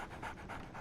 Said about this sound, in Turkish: Köpek var.